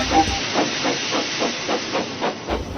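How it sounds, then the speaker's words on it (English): A steam engine chuffs away in a steady run of rhythmic hissing puffs, moderately loud and continuous, with no voices over it. "And he chuffed away."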